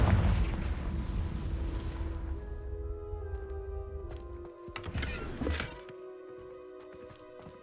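Confringo spell explosion in Hogwarts Legacy: a loud, dense burst of rumble in the opening seconds that fades into a lingering decay, followed by a second sharper blast near the middle and quieter magical tones trailing off.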